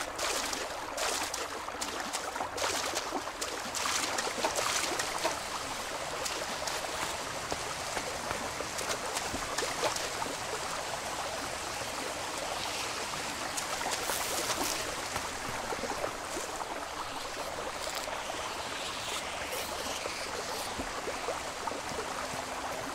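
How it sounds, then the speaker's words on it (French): Flowing stream water in the video game Elex trickles and burbles as a soft, continuous wash of faint splashes, steady throughout with no talk. "On va passer par ce petit ruisseau."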